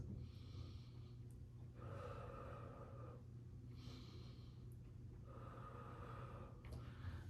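Slow, deep breaths during a seated yoga twist, three long airy inhale-exhale cycles evenly spaced, close and soft over a steady low hum with no talking.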